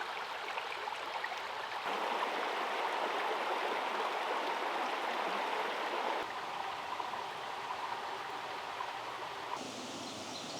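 A small woodland brook flows steadily along wildflower-lined banks, a continuous near, moderately loud wash of running water that shifts slightly in texture partway through, with no voices.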